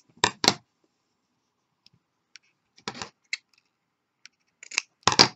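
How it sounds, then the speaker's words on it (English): Scissors snip yarn ends while a crochet basket is being made: three or four sharp, close clicking cuts spaced a second or two apart, with near-silence and a few faint taps between them. "just sort of fold each end and just make a little snip"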